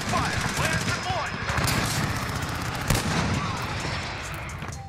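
Rapid automatic gunfire in the video game Call of Duty Modern Warfare, including an AUG SMG with light tracer rounds: dense, continuous bursts of shots with booming impacts, loud and close, mixed with voices talking over it.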